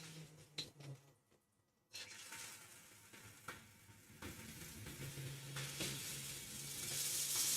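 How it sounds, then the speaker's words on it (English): Scallops searing in a hot pan, a loud broad sizzle that drops away briefly, then returns and swells steadily, with occasional clicks and knocks of handling nearby. "That was a pretty nice sear."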